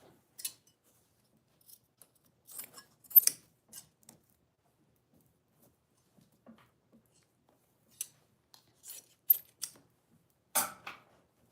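Scissors snip through clothing fabric at a sewing studio bench, a quiet scattered series of short crisp cuts in small bursts separated by pauses, close and otherwise silent.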